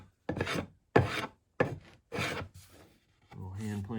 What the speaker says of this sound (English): Little hand plane action.